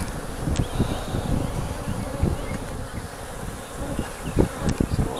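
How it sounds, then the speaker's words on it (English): A swarm of bees buzzes loudly and continuously around a hive removal box outdoors, a dense close hum with light wind noise underneath. "A good amount of bees on top of the box, in the box, around the box,"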